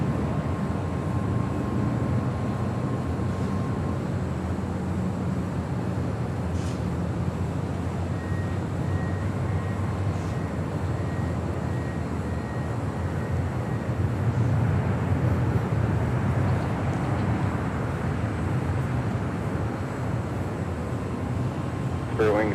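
Southern 474 Heavy jet taking off from LAX runway 25 left, a broad continuous engine roar and rumble held steady throughout, with faint tonal whines drifting above it.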